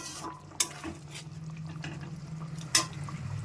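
Catla fish get stirred in a pan after the lid comes off, with two sharp metallic clinks of utensil on pan over a soft, low bubbling and light scraping.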